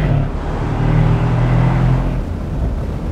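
A 2017 Mercedes-Benz SL63 AMG rumbles with a deep, steady exhaust burble as it downshifts and slows, a loud low engine drone heard from inside the car with no talking.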